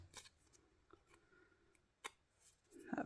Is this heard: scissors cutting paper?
yes